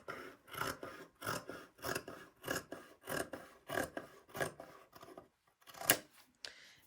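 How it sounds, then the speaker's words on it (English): Scissors snip through fabric seam allowances in a steady series of crisp cuts, about two per second, close and fairly quiet, with a short pause before a final sharper snip. "Now I am going to trim these seam allowances in half."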